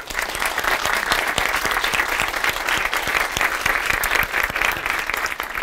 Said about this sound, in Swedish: vi bara ger en applåd till alla som jobbar på torget och för allt de har gjort för oss idag